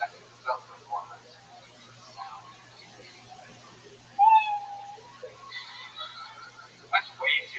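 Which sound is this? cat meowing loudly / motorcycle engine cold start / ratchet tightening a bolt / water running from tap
cat meowing loudly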